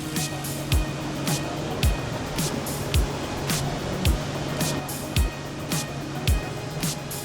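A motorboat moves across open water off Tai O fishing village on Lantau Island, Hong Kong, its engine droning steadily while the hull slaps the waves at regular intervals.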